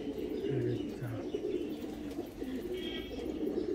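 High-flying Andhra pigeons coo softly in a loft, with a few low, short coos over a busy background murmur and faint chirps, close but quiet.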